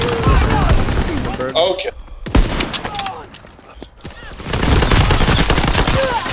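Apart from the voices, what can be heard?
SMG gunfire in the video game Call of Duty: World War II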